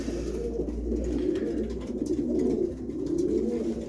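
Soft, repeated racing pigeon coos rise and fall in a low warbling murmur, steady throughout with a faint background hum.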